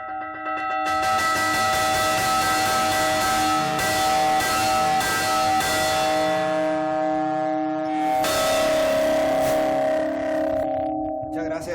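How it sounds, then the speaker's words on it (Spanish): Church bells rung by hand by bell ringers, in the old traditional peal used for processions and calls to catechism, clang loudly and continuously with dense overlapping strikes and a lingering ring, with a brief lull before the pealing resumes. "cómo se repicaban antes las campanas"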